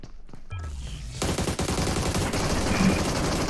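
Gunfire in the mobile shooter PUBG Mobile: after a quieter start, a dense run of rapid shots breaks out and continues as a steady burst of fire, heard without talk.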